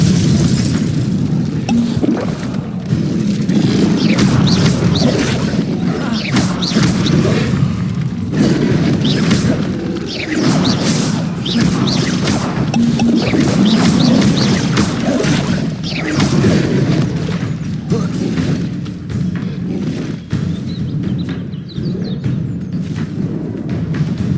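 Incendio fire spell blasts in Hogwarts Legacy during an outdoor fight: a continuous stream of loud booms, whooshes and crashes that repeat steadily and stay dense throughout.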